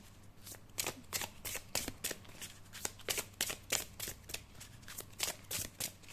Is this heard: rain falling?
no